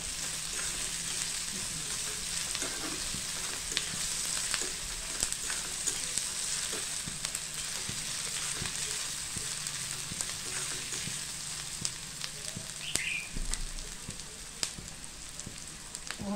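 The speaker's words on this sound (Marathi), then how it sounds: "कांदा आपल्याला चांगला लालसर होईपर्यंत भाजून घ्यायचा आहे" Onion frying in a pan until reddish-brown for a dried Bombay duck masala, a steady close sizzle with occasional faint scrapes of stirring throughout.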